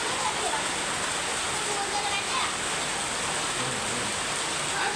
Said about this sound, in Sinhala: ඉතින් ළමයි වහිනවා.